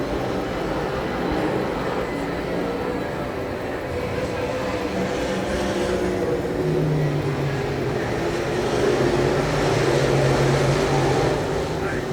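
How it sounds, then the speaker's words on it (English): An open-wheel modified race car circles Dixie Speedway during practice, giving a sustained engine drone that rises and falls as it laps. An announcer talks over it. "First time David Beam behind the wheel of a open wheel modified car"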